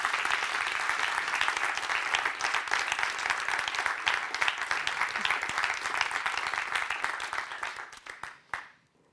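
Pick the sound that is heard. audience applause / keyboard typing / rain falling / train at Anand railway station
audience applause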